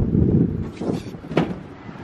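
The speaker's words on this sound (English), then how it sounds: "It's a windy ass day in Florida" Gusty wind buffets the microphone outdoors on a windy day in Florida, a loud low rumble that swells and eases in uneven bursts with a sharper gust near the end, no talking.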